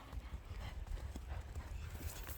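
Hooves of a fast, agile horse drum in quick, uneven clip-clop beats at close-to-mid distance, steady and fairly loud over low rumble, with no talking.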